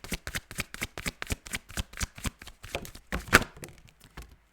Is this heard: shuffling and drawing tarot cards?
yes